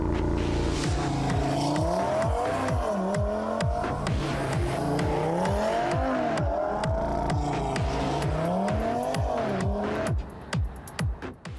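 An Audi TT Coupe with a five-cylinder engine is driven hard on a race track. The engine rises and falls through repeated upshifts and downshifts, loud and close, then drops to quieter bursts near the end.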